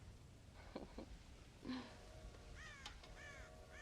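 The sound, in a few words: crows cawing in the video game Red Dead Redemption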